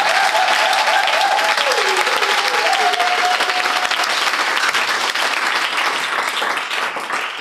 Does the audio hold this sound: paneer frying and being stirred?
no